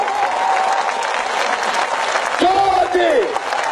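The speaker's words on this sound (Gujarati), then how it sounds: "જોરથી તાળી પડવી જોઈએ" At a political rally in Gandhinagar, a large crowd claps loudly in dense, continuous applause, with voices and shouts rising over it near the end.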